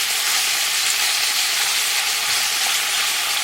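Meat fries in hot oil in a village kitchen, giving a steady, loud, close sizzle that holds without pause.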